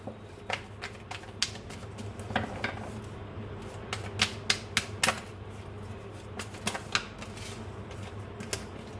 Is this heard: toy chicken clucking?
no